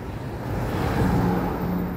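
Road traffic noise while crossing a street in Anambra State, Nigeria: a continuous broadband rumble of passing vehicles and engine hum, moderately loud with no talking.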